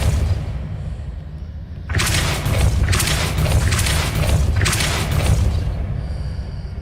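A Depulso spell cast in the video game Hogwarts Legacy, a sudden loud booming burst that swells into a sustained rumbling roar with repeated surging pulses, over a quieter ambient bed at the start and end.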